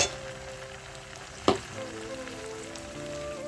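Kakrol (spiny gourd) paste frying with fried onions in a pan, a steady soft sizzle with one sharp clatter of a spoon or spatula midway, no talking.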